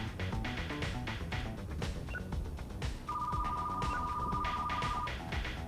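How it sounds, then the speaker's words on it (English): A telephone rings in a steady electronic tone lasting about two seconds, heard softly under busy retro game music and effects. "Yeah, I hear you, phone."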